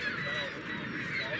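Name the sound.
seagulls calling at sunrise over the falls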